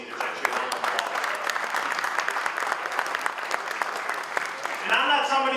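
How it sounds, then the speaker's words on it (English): Sustained applause from an audience at a Michigan congressional campaign event, honoring religious leaders, steady clapping throughout, with a voice rising at the end. "let's give all of our religious leaders actually a round of applause"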